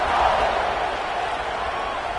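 A football stadium crowd roars after a touchdown drive, a loud sustained distant mass of cheering voices that holds steady throughout.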